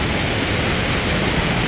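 Ozarde (Navja) waterfall near Koynanagar gives a loud, steady rushing roar of falling water that fills the whole stretch without pause.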